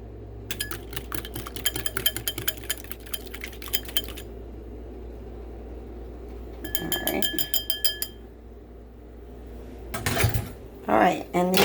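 Eggs are whisked in a bowl in rapid clinking bursts of metal against the bowl, three separate runs of close, bright tapping, with someone talking over and between them.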